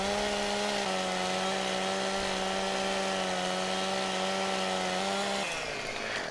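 In Farming Simulator 17, a chainsaw cuts through wood with a steady, loud buzzing drone that dips in pitch partway through and then winds down near the end.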